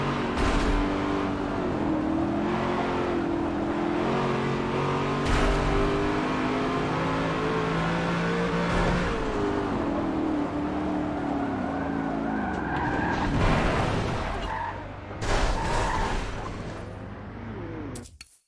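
Race cars including a Porsche 911 GT3 and a Ferrari 599 GTO driving on the Nürburgring in Forza Motorsport 7, with engines revving and shifting through gears, tires skidding and a sharp crash near the end.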